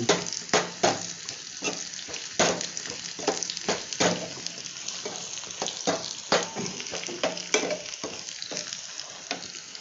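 Onions sizzle in a hot tempering on a low flame, a steady crackle broken by frequent sharp scrapes and clinks of a spoon stirring the pan.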